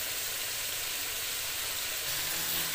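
Chicken pieces with garlic frying in a kadai give off a steady, dense sizzle that stays close and even throughout, with no talk over it.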